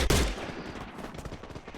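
Gunfire in the mobile shooter Free Fire: a loud burst right at the start, then a rapid string of quieter shots crackling on steadily through the rest, no one talking.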